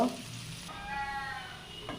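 Onion and garlic fry in oil in a pan for a dal with jhinge and katla fish, a steady close sizzle running throughout with a brief clatter near the end.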